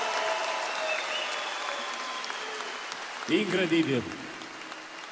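An audience at a Romanian folklore show in Bucharest's Palace Hall keeps up soft, even clapping beneath a voice, with a short louder burst of talk near the end.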